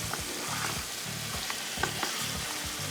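Onions frying in a pot for chicken pulao, a steady close sizzle with rhythmic stirring scrapes repeating every half second or so, no voices.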